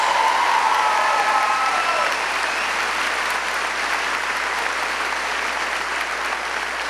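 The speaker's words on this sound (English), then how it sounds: "Can we have a round of applause for those who are joining our military" A graduation audience at a vocational-technical school applauds recruits joining the military, sustained, full applause from a large crowd filling the hall, steady and slowly easing off.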